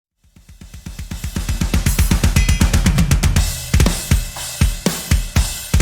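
Full drum kit played through a simulated room reverb bus in a Cubase home studio mix, with a rapid tom fill building in loudness, then heavy spaced kick and snare hits with crashing cymbals ringing out, no voices.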